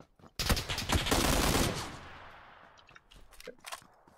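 A loud close burst of rapid automatic gunfire in PUBG, a dense volley lasting about a second that decays into a reverberant tail, followed by a few faint scattered shots.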